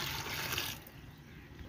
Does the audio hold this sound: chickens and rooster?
no